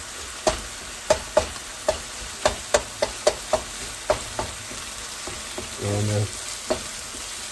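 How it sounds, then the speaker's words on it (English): Ground meat and onions browning in a pan for stuffed peppers, a steady sizzle under a run of sharp, evenly spaced scraping knocks as a utensil breaks up the meat, with a brief louder burst near the end. "we're gonna do this till all the pink's out of the meat and the meat is cooked"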